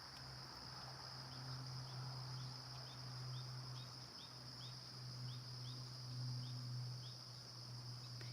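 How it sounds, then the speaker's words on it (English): Steady high-pitched cricket trilling fills a quiet night in Ontario, Canada, joined by a soft low hum and faint intermittent chirps in the background. "Can you hear the crickets?"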